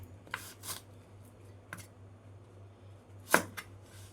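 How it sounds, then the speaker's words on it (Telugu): A kitchen knife chops an onion on a cutting board while preparing a crispy vegetable snack, giving a few sparse, crisp cuts spaced apart over a steady low hum, with one sharper stroke near the end. "ఉల్లిపాయ కూడా ఇలా కట్ చేసుకోవాలండి"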